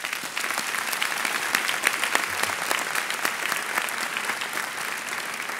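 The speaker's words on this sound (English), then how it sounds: "Could you please give a warm round of applause to all the families and those who supported" Sustained applause at a 2019 graduation ceremony, a large audience clapping warmly for families and supporters, steady and dense with crisp individual claps near the front.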